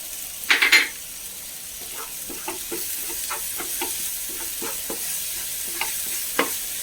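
A spice paste of coriander, chili and turmeric mixed in hot water sautés in a pan for fish curry, giving a steady soft sizzle broken by scattered scraping stir strokes and one louder clatter near the start.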